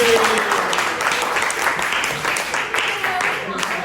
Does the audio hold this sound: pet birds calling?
no